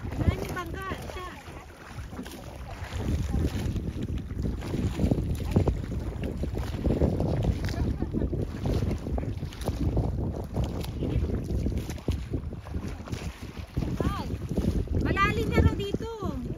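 A boat moves out in the middle of the sea on Lake Hamana, with constant wind buffeting the microphone, rushing water and a low engine-like rumble, while people talk throughout.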